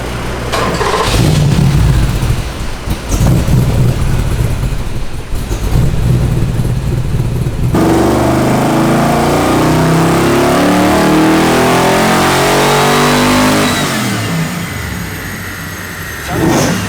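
LS1 V8 with a big cam and built heads, fresh plugs fitted, running on a dyno: a loud lumpy idle that rises into a sustained hard rev and holds near full throttle before easing off, with no voices.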